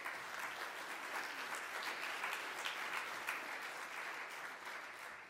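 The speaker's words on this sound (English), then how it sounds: "that applause was for yourselves" Sustained applause from a hospital association audience fills the room, a dense, steady wash of many hands clapping at even volume throughout with no voices over it.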